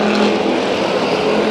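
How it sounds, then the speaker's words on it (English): A dirt-track Bomber-class race car in the hot pits roars with a loud, dense, sustained engine-and-tire blast during a burnout, close and unbroken for the whole moment. "Stop and go with a burnout."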